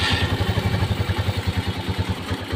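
Motorcycle engine fired with the push starter, then idling close by in a fast, even chugging pulse that stays steady and moderately loud, alone without talk.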